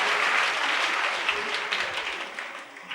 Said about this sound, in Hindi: तालियां तो बजाते हो